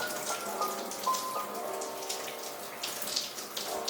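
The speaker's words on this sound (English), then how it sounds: "I'm going back to drench my hair with lukewarm water" Lukewarm water runs steadily from a tap, drenching freshly washed, sectioned natural hair before deep conditioner, a continuous close spatter and trickle with no talking.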